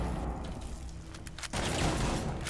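Bursts of rapid gunfire crackle over a dense, noisy background, with a sharper burst midway and continued loud shooting afterward, in a Rainbow Six Siege match.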